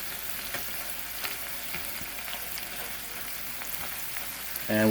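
Small shrimp sizzling on a hibachi griddle, a continuous close crackle and hiss with occasional faint ticks of a utensil, ending in a brief louder clatter.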